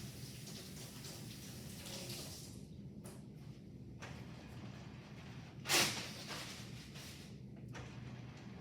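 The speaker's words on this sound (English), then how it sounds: "I'm going to go ahead and wash my hands" Hands are washed at a sink in an examination room with running water as a soft, steady hiss, broken by one brighter splash midway.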